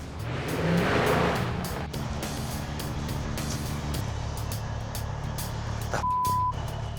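A heavy truck engine rumbles steadily while it drives, and a loud reversing beep starts near the end and sounds in a repeated pattern over the engine noise, with no talking.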